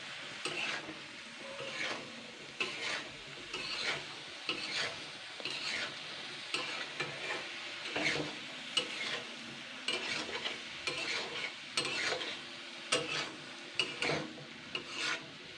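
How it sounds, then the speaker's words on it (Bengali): Pumpkin curry with chilli powder, sugar and spices being stirred in a pan, with continuous gentle scraping strokes over a soft sizzle, close and steady, at low volume with no talk. "এরপরে আমি আবারও 2-3 মিনিট হালকা নাড়াচাড়া করে নেব।"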